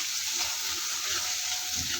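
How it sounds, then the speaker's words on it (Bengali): Garlic sizzles steadily in hot oil in a kadai for mango dal, a bright continuous crackling hiss close by. "তেল গরম হয়ে গিয়েছে রসুন দিয়ে দেবো"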